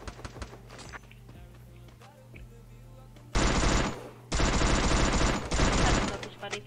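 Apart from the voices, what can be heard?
MP5 and shotgun gunfire in a video game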